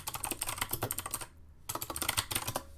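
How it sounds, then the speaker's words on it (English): Rapid, continuous clicking of keys on a computer keyboard, close and fairly loud, with a brief pause partway through before the typing resumes; no voices. "I love clickety-clacking on this keyboard like no one's business"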